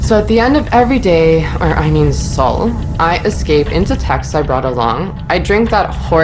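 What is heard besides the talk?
No everyday noises stand out.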